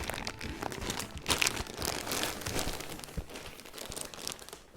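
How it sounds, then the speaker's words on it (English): A package of ordered fabric is torn open by hand, producing close crinkling, crumpling and ripping of plastic packaging in a continuous, moderately loud burst. "Just rip through it."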